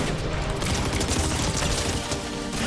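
Rapid, dense shotgun fire in Fortnite, with several pump, combat and auto shotguns compared, forming a continuous loud barrage of overlapping blasts and booms that fills the whole stretch.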